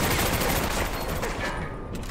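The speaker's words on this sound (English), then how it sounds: "Am I getting shot from more than one direction?" Dense gunfire from several directions in the World War II shooter Medal of Honor: Vanguard, a steady roar of overlapping shots and bursts filling the whole span without pause.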